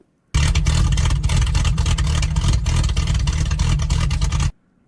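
A car engine with a suspected misfire runs loud and close for about four seconds, a steady rough drone with uneven pulsing, starting and stopping abruptly.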